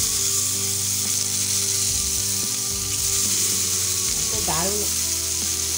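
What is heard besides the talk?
tomatoes frying in a pan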